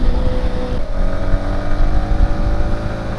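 A motorcycle fitted with a quiet 3tech Ronin Hanzo racing exhaust runs on a group Sunday-morning ride, a low steady engine rumble with light revving and wind noise, moderately loud and continuous.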